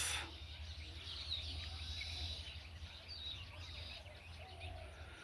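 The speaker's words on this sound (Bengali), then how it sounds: "তাল গাছে পাখির কিচিরমিচির শব্দ।" Birds chirp in a palm tree in a village, with scattered small calls and twitters heard at a distance over a low, steady outdoor hum.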